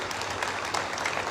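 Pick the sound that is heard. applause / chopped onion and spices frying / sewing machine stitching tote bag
applause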